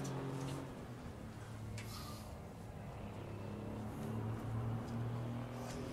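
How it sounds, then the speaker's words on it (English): An Aston Martin race car engine lapping the Dijon-Prenois circuit gives a steady, moderately faint droning tone that shifts slightly in pitch, with no talking. "Sound of the Aston Martin is always nice"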